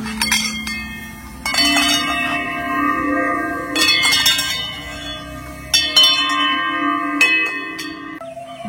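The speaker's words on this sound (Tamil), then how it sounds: "இது கோயில் மணி." Metal temple bell in Auroville, Pondicherry, struck repeatedly at irregular intervals, each bright clang leaving a sustained ringing hum that overlaps the next strike, fairly near and loud.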